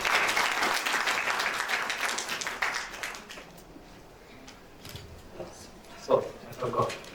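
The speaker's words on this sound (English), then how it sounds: "Give a huge round of applause for her." Audience applause at a young writers' conference in Pakistan, a dense burst of clapping that fades after a few seconds, followed by quieter room noise and brief speech.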